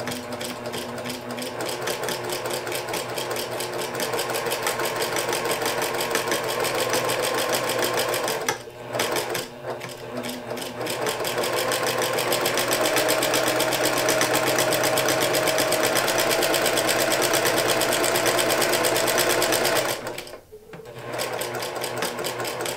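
A sewing machine runs steadily while stitching quilt binding, its fast, even mechanical whir continuing for long stretches with two short pauses where the stitching briefly stops and then resumes.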